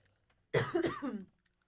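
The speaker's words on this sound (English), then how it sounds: "excuse me for a second, I'm gonna cough." One close, short coughing fit of a few rough bursts in quick succession, then silence.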